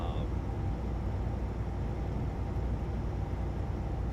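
Inside the cab of a Volvo semi truck, a low, steady engine drone and road rumble hold evenly throughout, fairly quiet and muffled with no talking over it.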